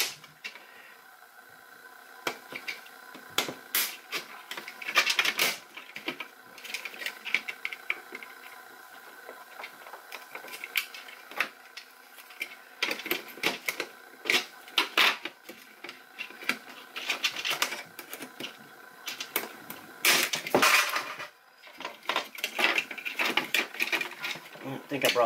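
A small screwdriver prying plastic tabs loose on an Elite 2.0 Phoenix, giving scattered clicks, scratches and snapping plastic pops, close and fairly quiet, with a voice talking at times.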